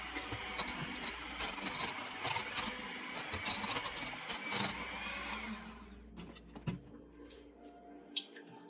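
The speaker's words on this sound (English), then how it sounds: "now you got to take the mixer and mix that together" A mixer blends vanilla ice cream and sherbet with a steady whirring hum and scraping, clattering knocks, then winds down into sparse taps and clunks near the end.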